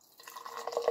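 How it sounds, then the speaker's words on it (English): Ale poured into a glass gives a short, soft liquid splash that builds over under a second, fairly faint and close. "that was a bit of a heavier pour"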